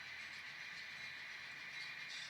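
N scale model train of seven cars running along its track, a steady soft hiss and rolling rumble with no voices, continuous and fairly quiet throughout.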